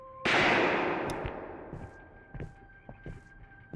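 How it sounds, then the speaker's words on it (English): A single sharp, loud gunshot cracks out in the game Nocturnal and decays into a ringing tail, then fainter scattered clanks and thuds follow against a faint steady tone. "The shooting increases."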